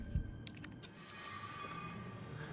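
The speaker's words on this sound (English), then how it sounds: "let's just take the first aid spray" First aid spray in Resident Evil 3 on PS4, a soft click followed by a steady hissing spray lasting under a second, then a quieter lingering hiss over a faint background hum.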